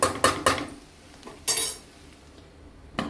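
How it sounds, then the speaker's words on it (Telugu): A metal lid set onto a cooking pot of cluster beans fry: several sharp clinks and clatters, close and fairly loud, with quiet gaps between them and no talking. "మూత పెట్టేస్తున్నాను."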